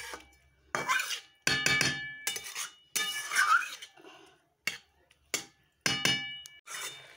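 Cooking banana flower curry in a pot, with a spoon scraping and clanking against the metal pot in repeated bursts, then a lid clinking on to cover it, close and fairly loud with short pauses.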